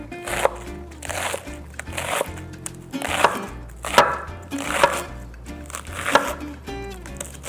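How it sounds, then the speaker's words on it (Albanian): A knife slices salad ingredients thinly on a cutting board, giving a steady series of crisp, close chopping thuds that repeat in an even rhythm with brief pauses between strokes. "Dhe çdo gjë do t'i presim hollë."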